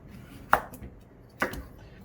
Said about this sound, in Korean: 이렇게 해서 반으로 가른 다음에 호박도 큼직큼직하게 썰어주세요